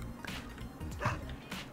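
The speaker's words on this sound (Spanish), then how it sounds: "Por ahí salió el perrito." Dog barking in the survival game Last Day on Earth, a few quick yips and barks spaced across the moment, fairly quiet against a low background hum.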